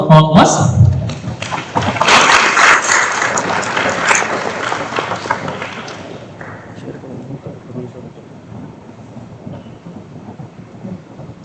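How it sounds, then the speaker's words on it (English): Delegates at a diplomatic course session break into a round of applause, a loud dense burst of clapping at the start that fades into a lower, scattered patter with murmuring voices underneath. "round of applause for all of us"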